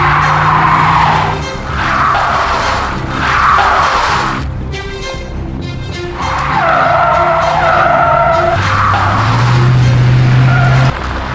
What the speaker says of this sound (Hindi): गाड़ी स्टार्ट कीजिए, मैं धक्का देता हूँ।